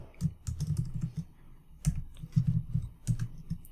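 Close, quiet typing on a computer keyboard, a short run of crisp key clicks in uneven bursts, ending on a save shortcut keystroke.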